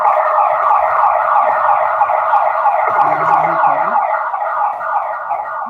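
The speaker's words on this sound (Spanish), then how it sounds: "No, la alarma de acá del conjunto" The alarm siren of a residential complex wails loudly and continuously nearby with a warbling tone, heard alone with only faint background noise beneath it.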